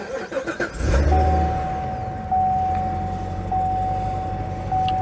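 A Chevrolet C7 Corvette Z06 engine cranks and fires, a loud close roar that flares and then settles into a steady deep idle, stepping up slightly in level a couple of times.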